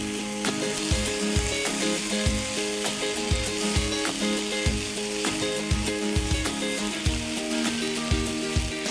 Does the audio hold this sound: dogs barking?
no